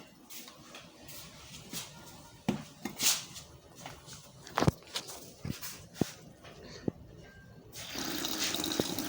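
Water from a laboratory tap running through sieves during a sedimentation test, a soft continuous trickle with scattered clinks and knocks, swelling to a louder rush near the end.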